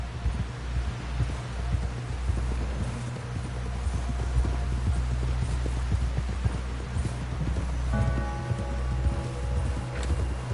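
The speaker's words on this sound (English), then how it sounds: "Someone help John down off this horse" Horse hooves galloping in a steady clip-clop rhythm over a constant low rumble, with no voices, in the video game Red Dead Redemption 2.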